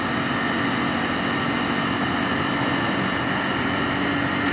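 A faulty air conditioner compressor runs continuously under load, a loud steady mechanical drone with a high whine, constant from start to end with no talking.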